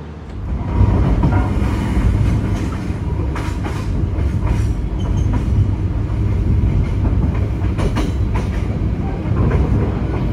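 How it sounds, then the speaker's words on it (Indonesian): A long fuel tanker train rumbles past close by, heavy wheels clacking rhythmically over rail joints in a steady, loud roll. "Ini ada satu rangkaian kereta BBM"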